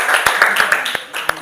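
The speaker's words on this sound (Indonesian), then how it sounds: "Oke, berikan tepuk tangan." A classroom group gives applause at the end of a student presentation: a handful of sharp, spaced claps over a brief stretch, close and fairly loud, with some voices mixed in.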